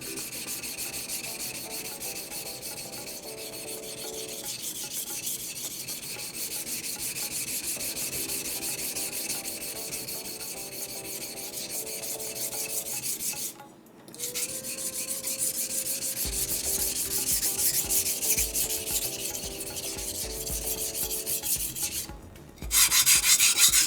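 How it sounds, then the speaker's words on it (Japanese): A knife is ground steadily against a King 300-grit coarse whetstone, a continuous loud rasping scrape of long even strokes with two brief pauses, and no voices. "キングの300番、こちらから研いでいきたいと思います。"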